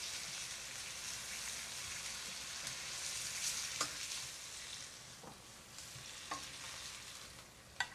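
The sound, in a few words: meat searing in a pan over high heat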